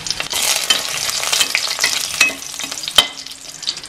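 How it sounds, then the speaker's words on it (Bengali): Bay leaf, whole garam masala and dried chillies spit and sizzle in hot oil for chicken biryani, with a steady crackle broken by sharp pops and spoon scrapes close by. "তেলটা গরম হতে আমি ফোড়ন দিয়ে দিচ্ছি, তেজপাতা, গোটা গরম মশলা আর শুকনো লঙ্কা"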